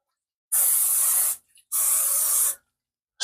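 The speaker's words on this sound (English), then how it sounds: "You want to get yourself some spray here, some just regular cooking spray." Cooking spray hisses onto a waffle maker in two sharp bursts, each lasting close to a second with a brief pause between. Both are close and bright, and a third spray starts at the very end.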